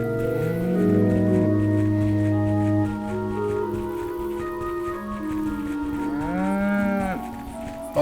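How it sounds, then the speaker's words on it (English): A cow moos repeatedly in the video game Inquisitor, with long, loud, low bellowing calls that swell and bend in pitch and sit prominently over a steady game background. "Fuck you, cow."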